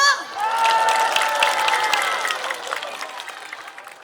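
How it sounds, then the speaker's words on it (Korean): Audience at a science festival concert stage claps and cheers, a dense wash of applause with scattered shouts that gradually fades over a few seconds. "박수 주세요!"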